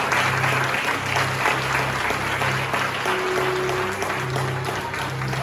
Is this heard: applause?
yes